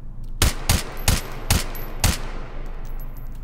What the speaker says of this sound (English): 5 more shots.